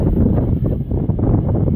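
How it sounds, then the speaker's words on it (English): Gusty wind buffeting the microphone, a low roaring rumble that swells and dips over a couple of seconds. "Oh, it is windy."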